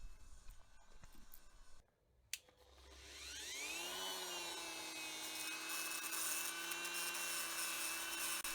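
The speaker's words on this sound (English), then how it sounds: "I take my Dremel, I just remove the little metal edge that holds on the wheels" A Dremel rotary tool spins up to a high steady whine and grinds the metal edge off a Matchbox Jaguar Mk 10 toy car axle, preceded by a few handling clicks and a brief quiet gap.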